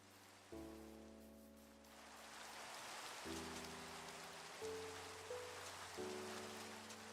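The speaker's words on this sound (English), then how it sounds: "now seeing rain on a beach is weird" Rain falls on a beach in the video game Minecraft, a soft continuous hiss under gentle sustained notes of game music, with no talking.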